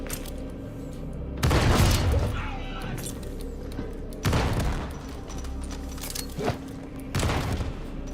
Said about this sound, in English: Perfect grenades. Couldn't ask for any better placement than that.